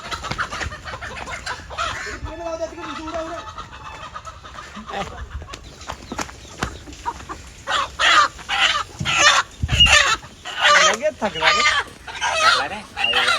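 A village rooster squawks and clucks loudly in repeated agitated bursts while being caught, with people talking and shouting over it and scuffling throughout.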